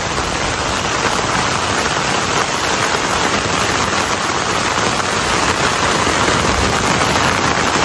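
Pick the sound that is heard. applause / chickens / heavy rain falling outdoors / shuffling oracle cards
heavy rain falling outdoors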